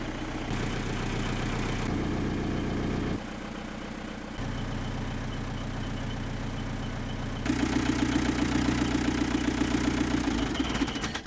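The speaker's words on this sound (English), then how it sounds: "Our venerable old British Thornycroft T90 diesel engine." An old British Thornycroft T90 diesel boat engine idles steadily nearby with a rhythmic knocking chug, growing louder and rougher toward the end.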